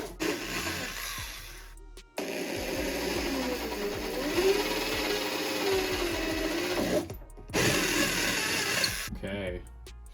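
A power drill with a 1/4 inch bit boring into a skateboard deck, a steady whining motor buzz running for several seconds between short pauses, close and moderately loud.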